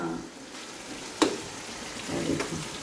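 Chopped onions fry in a pan for a traditional bhindi chicken dish, giving a soft, low sizzle with a single sharp utensil clink and some stirring scrapes.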